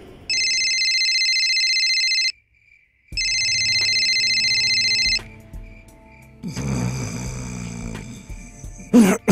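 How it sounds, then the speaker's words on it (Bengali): A telephone rings harshly in two long electronic bursts as a radio drama effect, followed by rustling and a voice. "মাথার কাছে ফোনটা কর্কশ শব্দে বেজে উঠল"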